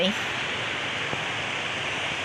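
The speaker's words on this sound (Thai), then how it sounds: "ยามนี้ก็นอนฟังเสียงน้ำไหล" Water flows in a steady, even rush, constant and fairly loud throughout, with no distinct events standing out.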